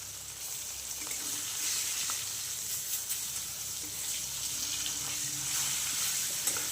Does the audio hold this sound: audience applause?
no